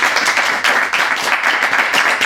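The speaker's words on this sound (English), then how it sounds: "let's give another round of applause" Audience at a literary reading gives a round of applause, dense close clapping from many hands sustained at full volume throughout, with no voices over it.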